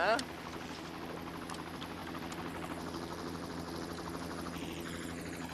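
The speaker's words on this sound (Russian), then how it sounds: "Вертолеты!" Helicopters drone steadily overhead in a war film scene, a continuous rotor and engine hum that persists from start to finish after a brief loud burst at the outset.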